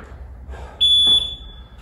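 A single electronic workout-timer beep, a sharp high-pitched tone lasting under half a second, loud and close against a quiet background of faint room noise.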